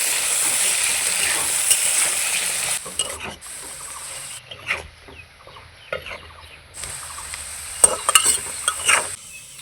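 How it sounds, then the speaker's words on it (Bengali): Potatoes frying in oil with turmeric and salt, a loud continuous sizzle broken by scraping stirs, the frying dropping away briefly in the middle before surging back. "পরিমাণ মতো হলুদ, লবণ হলুদ দিয়ে আলুগুলোকে ভালোভাবে ভেজে নেব।"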